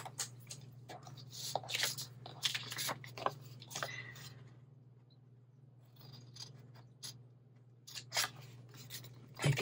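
Scissors snip through one-sided craft paper while a circle pocket is cut out, giving short, quiet, irregular cutting crunches in bursts over a steady low hum.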